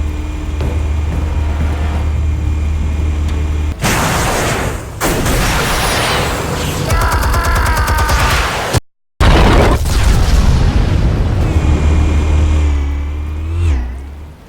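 Explosives blast in the Batman Telltale Series game, loud rumbling detonations and roaring debris filling the scene, cut briefly by a moment of silence before another heavy burst and fading rumble.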